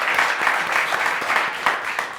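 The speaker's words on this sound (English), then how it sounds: "Give yourself another round of applause." A live studio audience at a late-night comedy show claps in a steady, dense wash of applause, loud and sustained throughout with slight surges.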